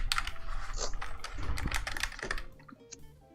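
Typing on a tenkeyless Wooting keyboard with black switches and PBT keycaps, a close, busy run of key clacks that thins out toward the end.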